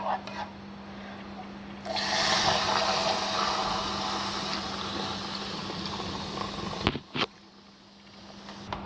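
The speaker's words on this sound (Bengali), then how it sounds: "দুধটা ভালো করে বলক আসছে" Milk coming to a boil in a pan over caramelised sugar: a steady bubbling, frothy rush that starts abruptly and runs on at an even level, interrupted near the end by a couple of short clatters.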